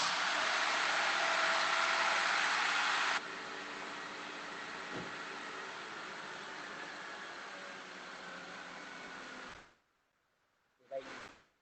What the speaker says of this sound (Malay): Ketika enjin kita telah hidup